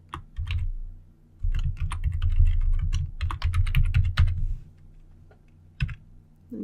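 Computer keyboard typing comes in quick bursts of close, crisp key clicks with short pauses between runs, fairly quiet and with no voices.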